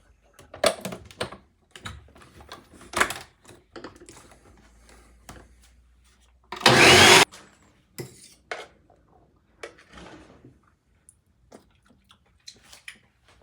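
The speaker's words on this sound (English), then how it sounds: "I'm gonna give this a quick little mix" Enchilada filling being mixed in a bowl: sparse light clicks and scrapes from the utensil, with one louder, brief burst of clatter midway through otherwise quiet surroundings.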